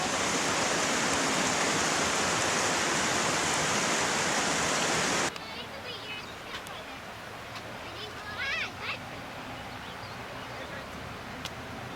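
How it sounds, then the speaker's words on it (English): A mountain creek at a Colorado campsite rushes loudly and steadily for several seconds, then drops to a quieter, more distant flow with a few faint chirps and light movement. "there's a creek down there"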